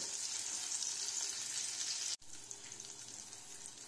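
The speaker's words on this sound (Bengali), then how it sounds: "উল্টে পাল্টে লাল লাল করে ভেজে ভেজে তুলে নেব।" Paneer koftas sizzle in hot oil with a dense, constant crackle, dropping out abruptly for a moment before the frying hiss resumes.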